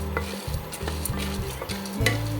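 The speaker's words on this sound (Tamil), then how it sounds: "இந்த பொட்டுக்கடலை வந்து பார்த்தீங்கன்னா ரொம்ப நேரம் வறுக்கணும்னு அவசியம் இல்லை. ஒரு 2 நிமிஷம் நம்ம வறுத்தாலே போதும்." Roasted gram (pottukadalai) dry roasts in a pan, a continuous close rattling and scraping as the hard grains are stirred, with small repeated clicks and no voices.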